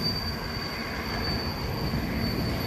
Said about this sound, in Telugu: ఇంకా ఇండియన్ రైల్వేస్ అయితే మనకు తోడుగా వచ్చేసారు.